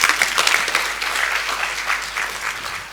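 An audience applauds after an academic keynote speech at a conference, sustained clapping that starts dense and gradually thins toward the end.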